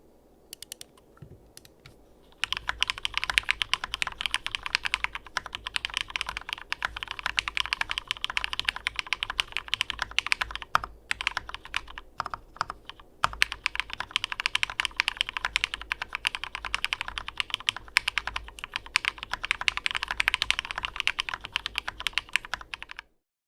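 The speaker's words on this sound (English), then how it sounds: "let's get into a typing test." A typing test runs on an SKErgo through-hole mechanical keyboard, producing a continuous stream of close, crisp key clicks at a fast, uneven rhythm with brief pauses and no talking.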